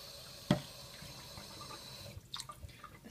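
A faint splash of water falls onto a phalaenopsis orchid at night, followed by a short run of soft trickling and dripping in a quiet room.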